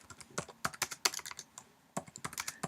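Close, quiet keystrokes on a computer keyboard come in quick irregular bursts, with a short pause near the middle before the typing resumes.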